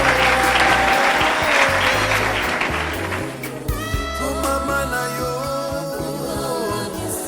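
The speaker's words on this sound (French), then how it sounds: "Clap for Jesus." A church congregation claps and cheers for Jesus during a worship service, a loud sustained wash of applause with music and voices underneath, fading slightly as singing tones emerge.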